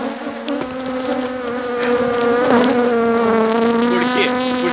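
A honeybee colony buzzes loudly and continuously at close range, a dense droning hum from a hive whose swarm is small and short of food.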